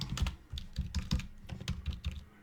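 Fast, steady typing on a computer keyboard, close and clear, with an even rhythm of key clicks and no talking.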